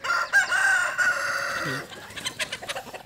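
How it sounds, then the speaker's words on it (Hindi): An Aseel rooster on a free-range desi poultry farm gives a loud, close crow. Softer, choppy clucking from Aseel hens follows in short bursts. "ये असील मुर्गा ये असील मुर्गी"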